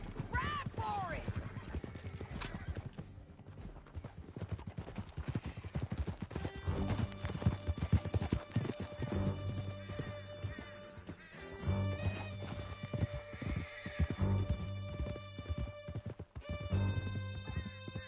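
Horse hooves clip-clop at a steady gallop in Red Dead Redemption 2 during a canyon escape, with occasional whinnies, layered under game music and a character's speech throughout.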